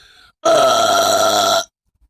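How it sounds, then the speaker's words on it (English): A single loud, drawn-out burp lasting about a second, made up close during a burping contest, with brief quiet before and after. "I'll burp first."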